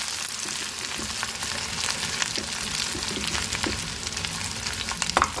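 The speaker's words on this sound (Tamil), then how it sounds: "இப்போ ஆனியன் நல்லா வதங்கிட்டுருக்கு." Chopped onions sauté in hot oil with fennel seeds in a kadai for egg puff masala, a steady close sizzle and crackle throughout with occasional stirring scrapes and no voices.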